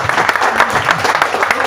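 Steady applause fills the room for the chair of a committee at a meeting, many hands clapping in a dense, continuous patter with faint crowd murmur underneath.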